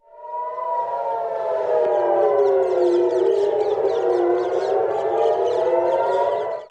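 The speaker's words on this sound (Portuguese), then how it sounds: "Na cidade portuária de Haifa, no norte israelense, sirenes soaram na manhã desta quinta-feira para alertar a população sobre o risco de bombardeios" Air raid warning sirens wail steadily over the northern Israeli port city of Haifa, several overlapping tones sustained loudly and evenly across the whole stretch with no voices.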